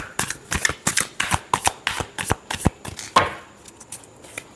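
Tarot cards are shuffled by hand, a close series of brisk, rhythmic riffling slaps that ends with a softer flutter.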